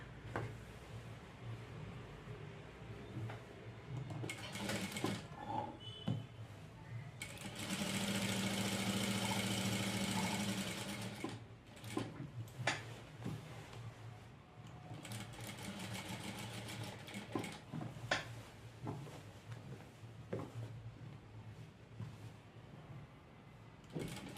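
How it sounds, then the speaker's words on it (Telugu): Domestic sewing machine stitching along the drawn and cut neckline of a kurti, a steady whirring run in the middle with shorter bursts of stitching and handling clatter around it, close by and fairly quiet. "ఇలా పెట్టుకొని నెక్ మనం ఏదైతే డ్రా చేసి కట్ చేసామో దాని మీద స్టిచ్ చేసుకుంటూ వెళ్ళాలి"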